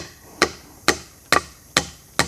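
Wooden blows ring out in a forest as timber is pounded while a roof is readied, five sharp evenly spaced knocks about half a second apart, each loud, close and clear, with no talking.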